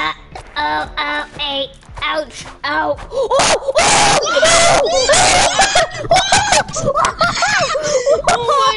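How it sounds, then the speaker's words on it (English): A loud, piercing scream rises midway through a burst of excited voices and laughter while people play Ultimate Chicken Horse, with shrill wailing tones peaking near the middle and chatter continuing around it. "Sorry for the scream."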